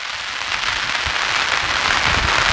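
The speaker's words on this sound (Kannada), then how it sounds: "ಈ ಕಡೆಯಿಂದ ಮಳೆ ಬರ್ತಿದೆ" Heavy rain pours at Ghataprabha dam in strong wind, a dense, steady hiss of close rainfall that stays constant throughout with no talk.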